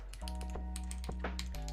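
Keystrokes on a Graystudios Think 6.5 V3 mechanical keyboard without PE foam, a quick run of clean, marbly clacks close up and alone over a steady low hum.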